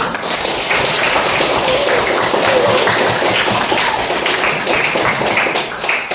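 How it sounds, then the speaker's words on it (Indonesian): A classroom of students applauds together at the close of a lesson, a dense and steady wash of many hands clapping that stays loud and even for the whole stretch, with no talking over it. "Boleh kita berikan tepuk tangan dulu."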